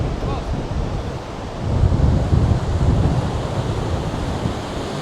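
Sea waves rolling in at Bakkhali beach in the Sundarbans as the tide rises, a steady loud wash of surf with wind buffeting the microphone, swelling stronger midway through.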